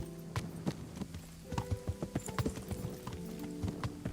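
Horse hooves clip-clop in a steady walking rhythm in Kingdom Come: Deliverance, close and crisp, with a few louder hoof strikes among the quieter ones and no talk over them.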